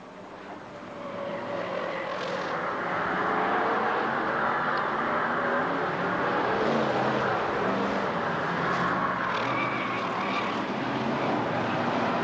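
F1 stock cars race around a track at the 1991 British Championship, their engines a continuous droning roar that swells in the first few seconds and then holds steady and loud, with no voices.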